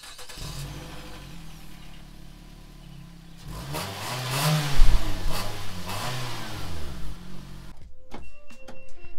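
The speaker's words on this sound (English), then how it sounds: "Actually, let me give y'all a cold start." An Infiniti G35 daily driver cold-starts: a low idle hum, then the engine cranks and catches with a rising rev and rough rumble before settling, followed by a few sharp clicks and clatters nearby.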